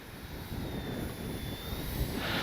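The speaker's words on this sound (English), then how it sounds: "Just a light little plane." A small airplane drones steadily overhead, a constant engine hum with a faint whine, growing slightly louder toward the end.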